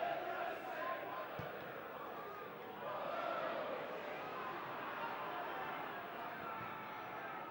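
Football crowd at a Bristol Rovers home match against Swindon Town, a broad steady roar of cheering and chanting from the stands, with a commentator talking over it.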